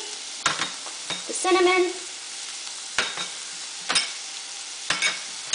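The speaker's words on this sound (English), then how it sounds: "So now I'm going to stir in the limu amani," Dried limes (limu amani) and spices are stirred into turmeric-coated beef frying for khoresht qeymeh, giving a steady close sizzle with a few sharp, regular spoon scrapes against the pot and a brief spoken word partway through.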